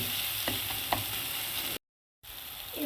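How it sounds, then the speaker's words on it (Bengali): Ground chili, Kashmiri chili, coriander and turmeric powders frying in a pan for a potato curry, a steady sizzle with a couple of soft stirring taps, briefly cut to silence before resuming. "এবার মশলাটা একটু কষিয়ে নেব।"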